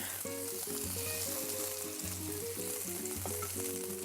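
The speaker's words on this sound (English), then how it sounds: "Coat the pan and place burgers one at a time, flat, without touching each other." Burger patties frying flat in a coated pan, a soft, even sizzle that holds steady and fairly quiet beneath a background tune, with no voices.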